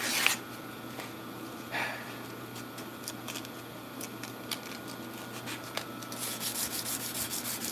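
A sword blade is rubbed by hand with 220 grit sandpaper, giving steady, close scratchy rasping strokes that swell now and then, with no talking.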